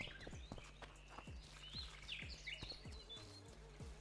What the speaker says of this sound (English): It's definitely birds